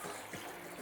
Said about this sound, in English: I will be adding a little bit of the pasta water.